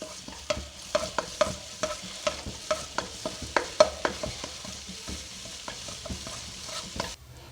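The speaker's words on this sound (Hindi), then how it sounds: "और हम इसको थोड़ा सा भून लेंगे" Chopped green chilli and ginger are roasted with spices in a pan, with a steady sizzle under repeated sharp clicks of a spoon stirring against the pan, close up and with no voices.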